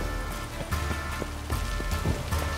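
Rain falls in The Witcher 3: Wild Hunt as a steady, dense hiss of drops on surfaces, with faint thuds and footsteps running through it and no talk.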